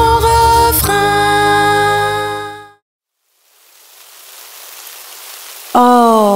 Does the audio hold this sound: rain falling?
yes